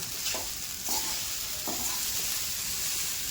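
Soaked sabudana (sago) frying in a pan gives a constant bright hiss, with a few soft stirring scrapes early on, heard up close at a low level with no speech.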